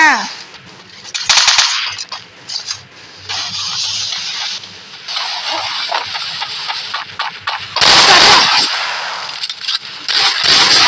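Video game gunfire bursts out loudly in rapid automatic volleys with gaps between them, along with engine-like rumbles and other game effects.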